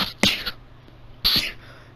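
Two sharp, loud sneezes burst out close to the microphone about a second apart, with a quiet pause between them.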